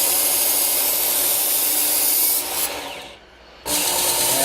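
A Work Sharp Ken Onion Edition belt sharpener grinds a knife blade with a loud, continuous abrasive rasp. The rasp dips briefly near the end, then resumes at full strength.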